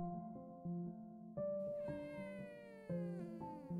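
A cat in a horror video game meows several times, drawn-out tonal cries that rise and fall, close and clear against a quiet background with no talking.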